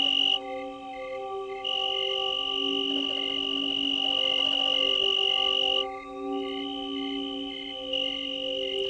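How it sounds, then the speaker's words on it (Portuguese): Steady, continuous cricket chirping in a garden, made by rubbing the two wings together, with several overlapping high trills, fairly loud and close, no voices. "Grilos cantam suas canções roçando as duas asas."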